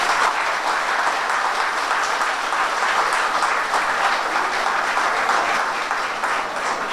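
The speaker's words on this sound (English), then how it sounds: "I want your parents to give you all a round of applause." Parents in a city hall give scouts, cubs and guides a round of applause at a youth awards ceremony, loud, dense, continuous clapping that holds steady throughout.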